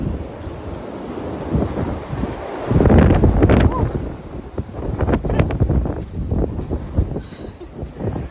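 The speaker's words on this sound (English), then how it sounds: "Wind catches my pack and it's like an amusement ride." Wind gusting over the mic on an Appalachian Trail hike, buffeting a hiker's backpack in loud rushing bursts that swell around the third second and again in the second half, continuous and close.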